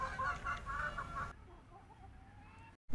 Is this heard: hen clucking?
yes